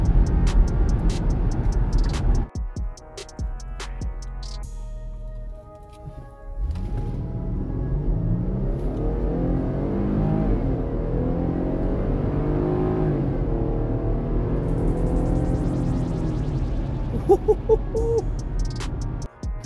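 A 2020 Jeep Grand Cherokee Limited X fitted with a Pedal Commander throttle controller revs up and accelerates hard, its engine note rising steadily and holding loud and close for many seconds after a brief quieter start.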